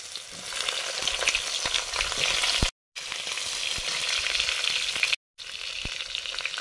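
Dried red chillies, cumin and eggplant frying in hot oil, a loud continuous sizzle with occasional stirring scrapes, close up, broken by two brief dropouts, no voices.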